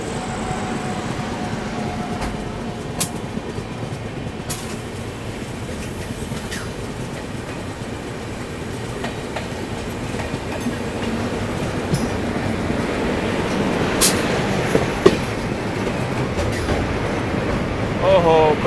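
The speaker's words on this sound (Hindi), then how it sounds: "अपनी ट्रेन भी स्लो डाउन हो गई है" The Guwahati–New Delhi Rajdhani Express rolls over the rails at reduced speed, a continuous, close rumble with scattered clicks and knocks from the wheels and carriage.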